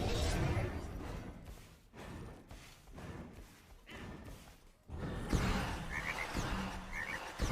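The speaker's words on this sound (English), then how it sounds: "Oh, it's frogs." A god's ultimate ability in the video game SMITE sets off a string of rhythmic frog croaks and thumping effects, loud and close, mixed with other game sounds.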